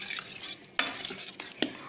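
A spoon stirs palm jaggery syrup into urad dal porridge in a pot, soft scraping swirls with a few sharp clinks against the metal, quiet and close, with no talking.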